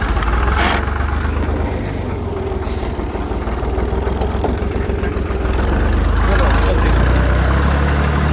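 A Deutz tractor engine chugs steadily nearby at a low idle, rising slightly toward the end, while someone talks over it.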